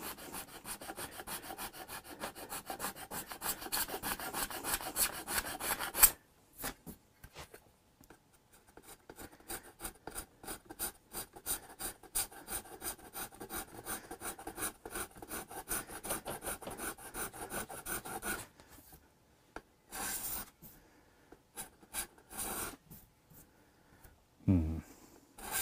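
The binding of a Hofner Galaxie guitar is scraped clean by hand in a steady series of quick, close rasping strokes, with pauses and a few heavier scrapes toward the end.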